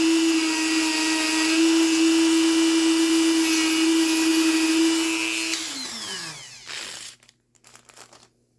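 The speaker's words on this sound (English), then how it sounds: "I'm just using a basic grinder wheel with a Dremel 4300." A Dremel 4300 rotary tool fitted with a basic grinder wheel whines at a high, steady pitch while grinding a metal Grubee Platinum Fire clutch part, then winds down with a falling pitch and stops near the end.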